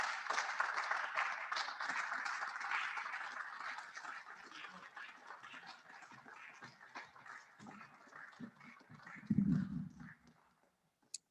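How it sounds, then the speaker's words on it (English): Audience applause at a 2020 opening ceremony for an award recipient, a broad clapping wash that fades gradually, with a brief low burst of other noise near the end before it trails off. "I think we can keep the applause going."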